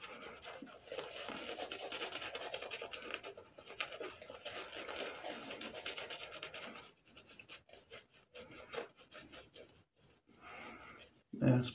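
Parker Variant safety razor with a Wilkinson Gillette Sword blade making a first pass with the grain, a close, continuous scratchy rasping of stubble being cut in strokes, with brief pauses near the end.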